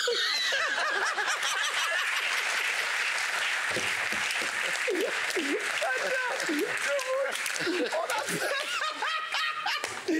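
An audience claps and laughs after a joke about a fabric seller, broadband applause running the whole time while chuckles and voices rise through it, fairly close and loud.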